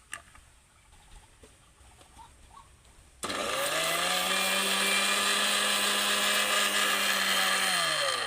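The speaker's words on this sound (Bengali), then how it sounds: "আমি ড্রাই কোকোনাটটাকে গুঁড়ো করে নেব" A mixer grinder grinding dry coconut into powder starts abruptly after a few seconds of quiet clatter, then whirs loud and steady with a high motor whine before its pitch begins to drop near the end.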